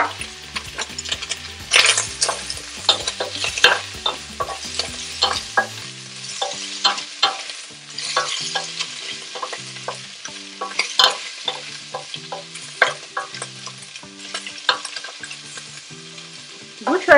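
Meat frying with browning onions in a pan, a continuous close sizzle broken by rhythmic scraping and clattering stirs that recur throughout, loud and without talk.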